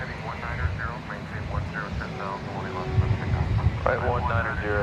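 Airliners taxi and take off at DFW Airport, a steady jet engine rumble heard from a distance beneath continuous talk and radio chatter.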